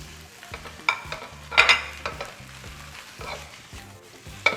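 Hong Kong–style fried rice with carrots and shrimp being stir-fried in a hot pan, a steady sizzle broken by repeated scraping and tossing strokes of a spatula, close and loud with no talking.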